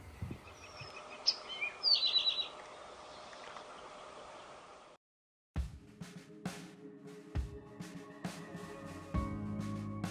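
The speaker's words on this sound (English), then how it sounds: "Just about the most common bird you hear, especially in the morning" Bird chirps and calls ring out over steady outdoor wetland ambience, with a brief gap of near silence midway before sharper, closer chirps resume.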